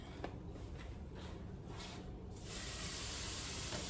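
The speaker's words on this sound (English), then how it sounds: "See, this is what we wanted for it to be sizzling" Shrimp and mixed vegetables sizzle in a hot pan for stir fry, a steady bright hiss that swells louder partway through, with no talking.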